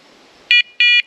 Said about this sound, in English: it'll start beeping consistently every 2 seconds